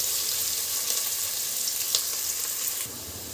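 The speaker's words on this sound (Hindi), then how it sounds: "प्याज को अच्छे से ब्राउन होने तक इसको तलेंगे।" Sliced onions fry in hot oil for veg biryani, a loud continuous sizzle close up with brief stirring scrapes, no voices.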